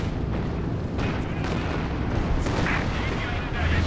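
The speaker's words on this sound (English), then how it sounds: "Oh, bombing run." A bombing run in the strategy game Company of Heroes 2 brings rumbling, continuous explosions and heavy bursts of fire that stay loud throughout, with a commentator talking over them.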